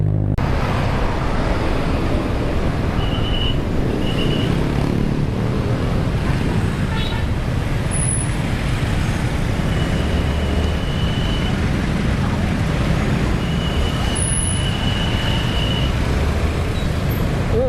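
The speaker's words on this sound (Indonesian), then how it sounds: "Bandung macet banget nih teman-teman." Heavy, jammed road traffic on the outskirts of Bandung, a loud, constant roar of idling and creeping engines recorded close up, with occasional high horn-like tones cutting through and people talking underneath.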